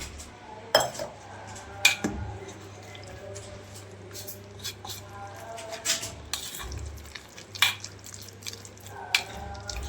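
A spoon stirs a thin flour-and-water batter for potato parathas, with scattered clinks against the bowl, wet squishes and drips. The sounds are faint and close.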